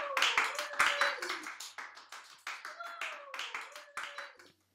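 A few sharp, close hand claps in irregular bursts, mixed with voices talking and laughing over them.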